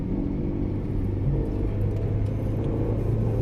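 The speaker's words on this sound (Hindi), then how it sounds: "आप देखिए लंबी कतार यहां गाड़ियों की लगी हुई है" A long queue of cars at a highway check post rumbles steadily with idling and slowly moving engines, a continuous low drone with no talk.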